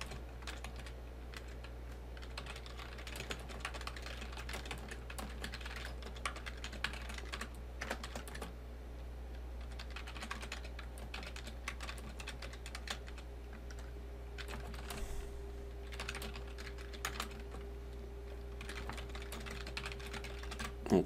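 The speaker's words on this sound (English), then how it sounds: "I'm going to type in the notes for slide 2." Fingers type notes on a computer keyboard, a steady stream of quiet, close key clicks and taps with brief pauses, over a low constant hum.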